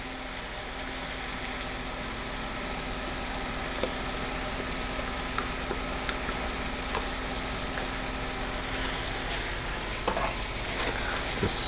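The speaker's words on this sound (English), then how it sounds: "Just stir that in real quick." Soy sauce, oyster sauce and ground ginger are stirred into a pan of chashu, giving a steady soft sizzle and frying hiss throughout with occasional light scrapes of stirring near the end.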